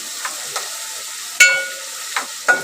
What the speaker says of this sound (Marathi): आणि कोथिंबीर परतून घ्यायची व्यवस्थित